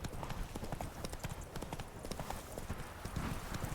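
Roach, the horse in The Witcher 3 video game, gallops with rapid, continuous hoof clip-clops in a steady rhythm, loud and close against a dense background, with no talking.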